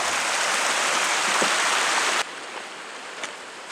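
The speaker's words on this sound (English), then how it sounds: "We got the little stream going right near us" Small mountain stream on the Humantay Lake hike, a steady close rush of flowing water that drops abruptly to a softer, more distant trickle partway through.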